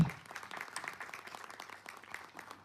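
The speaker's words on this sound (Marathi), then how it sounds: "प्लीज एकदा सरांसाठी टाळ्या होऊ दे" An audience applauds a guru at a film event with a short burst of dense clapping, moderately quiet and somewhat distant, fading slightly toward the end.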